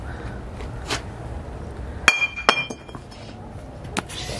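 A glass Crown Royal liquor bottle hits the ground with a sharp clink and a second bounce, followed by faint rattling, near and loud against quiet background; the bottle stays intact.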